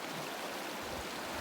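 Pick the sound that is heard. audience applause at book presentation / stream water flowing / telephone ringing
stream water flowing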